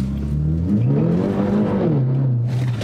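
A tuned BMW F30 330e Stage 2 plug-in hybrid making about 400 bhp accelerates hard, its engine note climbing and shifting in a close, loud run with no talk.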